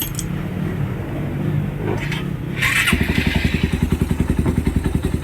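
A cold motorcycle engine starts up and settles into a loud, fast idle with a steady rhythmic rattling clatter, close by.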